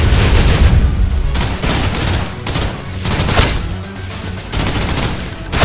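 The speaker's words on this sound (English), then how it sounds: "Suppressive fire." Dense, loud gunfire fills a shooter video game, Snowbreak: Containment Zone, sustained bursts of rapid shots and booms running almost unbroken throughout with no clear talk.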